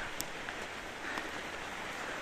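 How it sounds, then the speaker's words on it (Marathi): Monsoon rain falls during a trek to Sondai Fort near Karjat, a soft, steady hiss of drops with occasional faint taps, heard alone and fairly quiet. "आणि पाऊस पण वाढला आता जस्ट"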